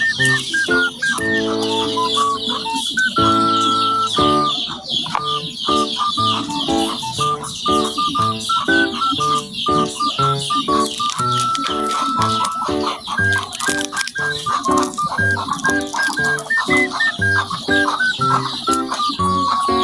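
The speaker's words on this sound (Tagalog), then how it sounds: "Pasaway itong mga manok na to." Chickens cluck loudly and continuously, with overlapping calls and squawks from several birds close by, forming a busy, noisy chorus.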